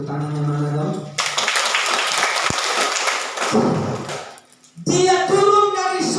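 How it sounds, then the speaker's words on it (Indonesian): A church congregation at a Good Friday service breaks into a dense burst of applause lasting about three seconds, with speech just before and a voice returning right after. "Tepuk tangannya mana dong?"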